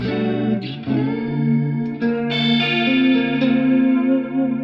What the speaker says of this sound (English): I prefer for such kind of sound, yeah, the TC electronic effects.